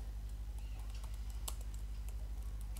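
Keys clack irregularly on a computer keyboard as a question is typed, light taps over a steady low electrical hum, with no voices.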